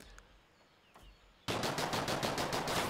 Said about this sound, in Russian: кто-то начал стрельбу